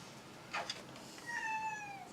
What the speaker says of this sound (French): C'est le plus beau des chats.